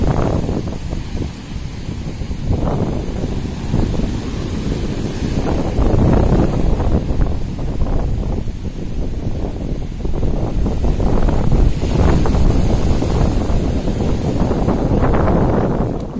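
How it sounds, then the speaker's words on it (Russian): Strong wind howls across the sea while heavy waves crash and surge, a loud, continuous roar buffeting the microphone throughout with no voices. "Вы слышали, как у нас сегодня воет страшно ветер на море, и какие бушуют волны?"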